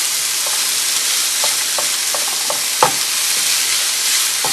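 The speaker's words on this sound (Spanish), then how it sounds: "Vamos a sofreír." Chopped onion sautés in a pan for a tamale stew, a steady bright sizzle with scattered stirring scrapes and one sharper clack of a utensil, no voices.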